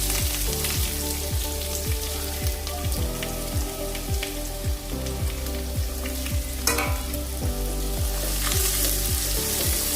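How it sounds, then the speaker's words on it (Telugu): Onion, garlic and ginger fry in oil with a steady loud sizzle, joined by a regular run of sharp clicks from stirring against the pan. "ఉల్లిపాయ బాగా వేయగలండి, బాగా ఎర్రగా వేయకపోవాలి ఉల్లిపాయ."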